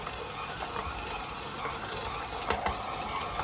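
A stand mixer kneading enriched sourdough brioche dough makes a steady, quiet mechanical whir with faint rhythmic ticking and a slight knock near the end, and no one is speaking.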